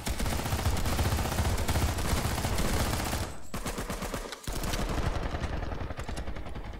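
Dense automatic weapons fire from the video game Planetside 2 roars almost continuously, loud and layered, with a short dip in intensity midway before the shooting resumes.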